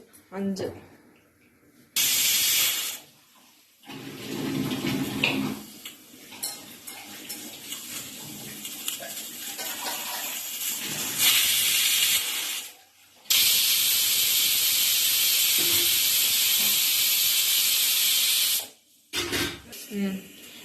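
A loud pressure cooker whistle hisses with steam in several long bursts while cooking dal for rasam, the longest lasting several seconds, separated by short quiet gaps.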